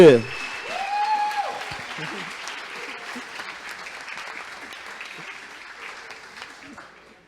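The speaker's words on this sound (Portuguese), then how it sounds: "Salva de palmas para o Gabriel Couto, Bob." Audience applause at a PHP developer conference talk, a short burst that fades into steady, moderately loud clapping and slowly thins out; a voice is briefly heard at the start.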